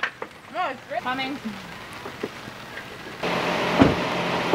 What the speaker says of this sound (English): It's already raining.